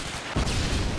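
A predator missile detonates in Modern Warfare 2, a sudden loud explosive boom that bursts in and rolls on as a dense, rumbling roar for the rest of the moment.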